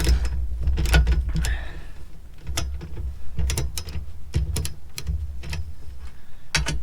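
Wrench loosening the bolts on a rooftop storage side rail, a series of sharp metallic ratchet clicks in irregular bursts over a constant low rumble, recorded close.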